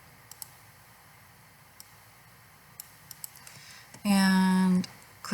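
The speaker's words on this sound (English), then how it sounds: "I am right-clicking on the image." Computer mouse clicks while working in Adobe Illustrator: sparse, sharp single clicks scattered through a quiet room, followed near the end by a brief loud tonal sound.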